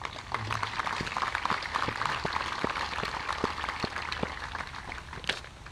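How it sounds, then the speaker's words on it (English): Scattered applause from a gathering at a Veterans Day service, a continuous mid-level patter of hands with a few sharper individual claps standing out against a roomy background. "I want to give them a nice round of applause."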